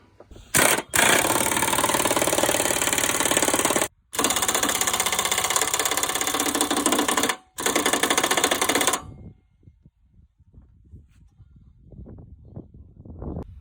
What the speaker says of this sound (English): then we tighten that up with the rattle gun